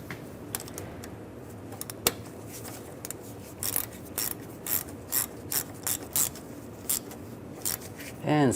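A hand ratchet clicks in short bursts while snugging a bolt on the power steering return hose of a 2007-2013 Chevrolet Silverado 1500, close and crisp with brief pauses between strokes, under quiet talk.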